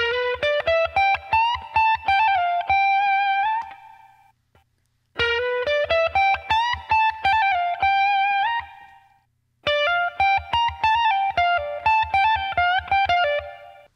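Three repeated runs of a bright, distorted electric guitar lick from a solo, each a quick picked phrase ending in a sustained bend, separated by short silences.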